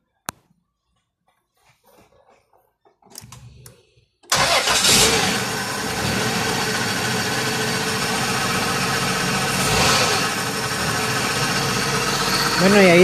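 A Chrysler or Dodge car, just diagnosed for missing injector pulse and spark, cranks after a quiet stretch with a few faint clicks and starts, then idles steadily and loudly close by as people talk over it.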